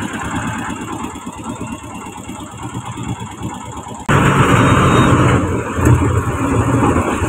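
A truck's engine runs steadily while the vehicle is driven inside for unloading, a loud close idle-like rumble that grows louder and fuller partway through.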